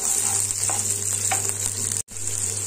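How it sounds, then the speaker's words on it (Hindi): Finely chopped onion fries in four spoons of hot mustard oil with cumin and slit green chillies, a steady close sizzle with a brief dropout near the end. "प्याज फ्राई करेंगे"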